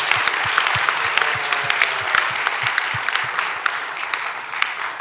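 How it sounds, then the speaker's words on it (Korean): A congregation at a church revival service claps loudly and continuously, a dense roar of applause with a few sharper individual claps standing out, sustained over the whole stretch without talk. "우리 한번 박수하겠습니다."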